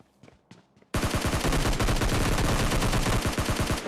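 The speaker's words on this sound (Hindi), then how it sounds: "मैंने AWM तो उठा रखा होता है तो यूज़ करते हैं यहाँ पे थोड़ा बहुत इसको" AWM sniper rifle gunfire in PUBG Mobile Lite: a couple of faint clicks, then a sudden loud burst of rapid, dense gunfire that continues without pause to the end.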